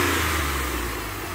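The V6 engine of a Mitsubishi Delica van runs at a smooth, steady low hum, close by and moderately loud, with no talk over it.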